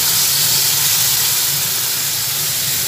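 Sesame seeds hit a hot pan while til katla cooks, giving a loud, steady, broad sizzling hiss that holds almost unchanged throughout, with no voices.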